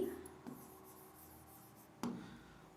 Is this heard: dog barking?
no